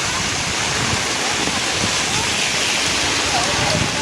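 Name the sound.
heavy rain outside Churchgate station, Mumbai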